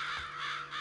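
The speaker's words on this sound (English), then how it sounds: "Ooh, hello, crows." Crows cawing in Psychonauts, a few harsh, raspy caws in quick succession, fairly close and clear over a faint steady hum.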